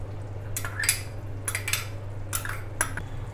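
A metal spoon stirs green pea and potato nimona in a pot, giving four bursts of scraping clinks at an uneven rhythm, close and moderately quiet over a steady low hum from the stove.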